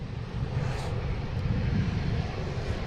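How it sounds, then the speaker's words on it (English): A JetBlue Airbus A220 jet arriving from Norfolk at Boston Logan, heard as a steady, broad low roar of engine noise that holds at a fairly even level throughout, with no talking over it. "we got a JetBlue and A220 coming in from Norfolk"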